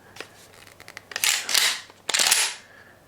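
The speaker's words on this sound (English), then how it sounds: "that sound, pumping a shotgun, might be enough just to scare off the person that's breaking into your house" A shotgun being pumped indoors, with two loud close mechanical slide actions, each a sharp metallic clack-clack, separated by a short pause, preceded by a few small clicks.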